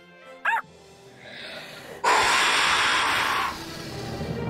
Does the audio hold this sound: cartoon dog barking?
yes